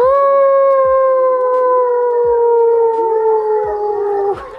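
A dog howls in long, sustained wavering tones for several seconds in response to sounds played to it, loud and close, with no talking over it.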